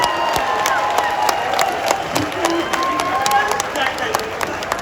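Live audience at a Hindi comedy poetry show (hasya kavi sammelan) clapping and cheering continuously, a dense wash of applause and crowd noise with scattered sharp claps throughout.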